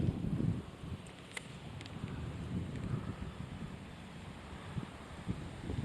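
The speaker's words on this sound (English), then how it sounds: "on a warm fall windy day" Steady gusty wind buffeting outdoors on a warm fall day while bass fishing, a low rumbling rush with occasional faint clicks, no voices.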